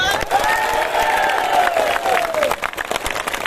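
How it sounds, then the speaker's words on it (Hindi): Loud applause from a crowd at a political party meeting in New Bhaitbari, clapping thickly with cheering voices rising and falling over it before the clapping thins out. "हम लोग सब एक बार ताली मारे इनके लिए"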